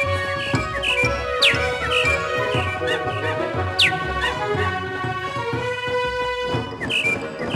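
Bird calls from the Tinkerbell flying game You Can Fly!, a dense layer of bright chirps and sweeping whistles repeating steadily over a busy, loud musical game backdrop.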